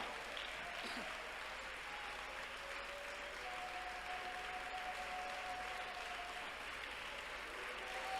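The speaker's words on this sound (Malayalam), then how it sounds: "കൈയടിക്കുകയാണ്. നന്നായി കൈയടിച്ച് കർത്താവിന് നന്ദി പറയണം." A congregation at an IPC prayer centre claps steadily in thanks, a dense, sustained patter of many hands, moderately distant, with a faint tone running through it.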